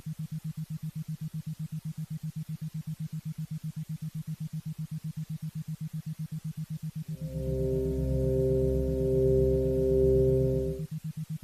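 A steady pulsing low sine tone drones alone for about seven seconds, then a louder, fuller chord of stacked pure tones swells in for roughly four seconds before the pulsing resumes.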